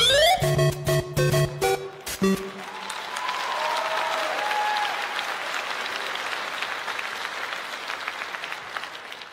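Thin, scattered applause from a KVN comedy show audience rises after a short burst of stage music and holds steady at a modest level to the end, sounding weak and unenthusiastic.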